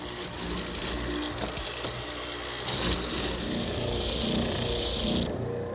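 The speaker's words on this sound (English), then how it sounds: "Since I already have the mortises set up, I'll use it to make the slot." Mortising machine cutting a slot down the middle of a plywood strip, giving a steady mechanical whir and grinding chatter that builds slightly louder toward the end before cutting off abruptly.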